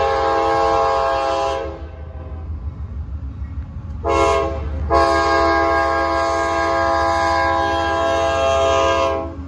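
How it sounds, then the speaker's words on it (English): A train rolls past near Madison, Tennessee, sounding a loud multi-tone horn in long blasts with a brief pause between them, over the steady rumble of the passing cars. "We got a train coming right here."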